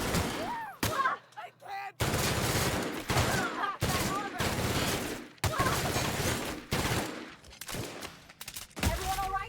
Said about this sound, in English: See, I have a machine gun, and you don't.